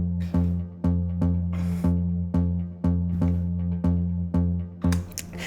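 A plucky bass synth patch built in Vital from three oscillators with white noise and a tube saturator repeats note after note in an even rhythm, each pluck with a sharp attack over a sustained low tone, with no talking.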